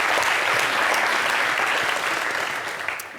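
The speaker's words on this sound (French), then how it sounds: "Applaudissez pour moi." A studio audience at a television show breaks into loud, sustained applause, the clapping dense and even before tapering slightly at the end.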